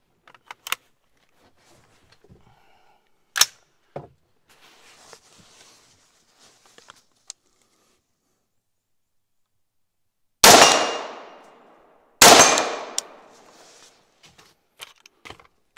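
Two loud, sharp 5.56 green tip rifle impacts ring off an AR500 steel target outdoors, each a bright clang with a long decaying ring, preceded by faint clicks and handling noises.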